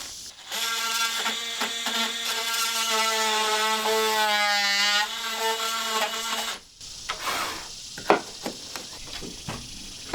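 An oscillating multi-tool cuts into trim on a house siding job, giving a steady buzzing whine with shifting pitch for several seconds, then stopping, followed by scattered knocks and handling noises up close.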